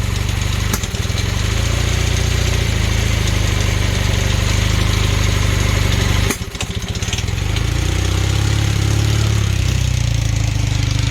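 A Honda Hondamatic 400 motorcycle, revived after over twenty years, idling with sticky rocker arms and valve adjustment trouble: a loud, close, uneven chugging idle with a brief dip partway through.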